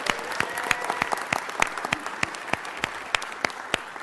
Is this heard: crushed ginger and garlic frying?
no